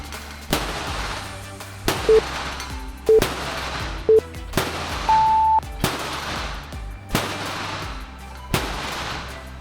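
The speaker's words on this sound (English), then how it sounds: "we weren't going to use the bat, but we decided to go ahead and take 15 shots right on the attack area" A bat repeatedly strikes an ArmorPlast panel, about ten sharp, loud impacts spaced roughly a second apart, each ringing briefly before the next hit.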